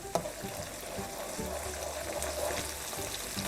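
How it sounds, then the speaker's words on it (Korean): Seasoning sauce for stir-fried garlic scapes and anchovies bubbling as it boils in a pan, a steady close sizzle and soft simmering crackle running continuously with no talk. "보글보글 끓잖아요"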